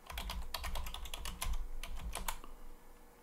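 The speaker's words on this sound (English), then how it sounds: "Put in my super secret password here." A password is typed on a computer keyboard, a quick run of about a dozen close, crisp key clicks in an uneven rhythm that taper off near the end, with no talk.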